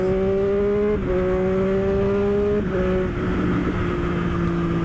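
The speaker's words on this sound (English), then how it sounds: "Absolutely love how this bike sounds." Motorcycle engine running steadily at speed on a bumpy California freeway, a loud continuous drone with shifting pitch as revs rise and drop, close and alone throughout.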